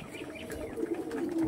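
Pigeons coo softly in a low murmuring warble that swells toward the end, fairly quiet against faint background rustle, with no talk.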